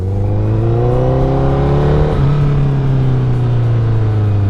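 Steady, loud engine note from a 2008 Honda CBR1000RR sport bike during a slow, tight U-turn, holding a smooth hum with a slight pitch dip midway and no talking.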